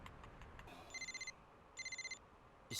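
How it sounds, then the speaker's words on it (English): A phone ringing in a drama scene, two bursts of an electronic ringtone with rapid repeated trilling pulses, moderately loud over a quiet room, ending in a louder sound. "His phone goes off."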